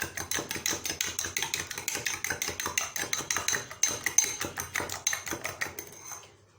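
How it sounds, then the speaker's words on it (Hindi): Eggs whisked in a bowl for a bread omelette: a fast, steady run of close clinking strokes, roughly three per second, that slows and stops near the end. "सबसे पहले ये जो अंडे हैं इनको फेंट लेना है अच्छे से।"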